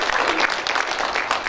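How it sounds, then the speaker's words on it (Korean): An audience at a Korean forum on sustainable aid to North Korea claps in a short burst of steady, dense applause welcoming a speaker to the stage. "박수로 맞이해 주십시오."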